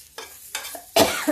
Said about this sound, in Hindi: तो इसको मैं 2 मिनट के लिए ये फ्राई कर लेती हूँ।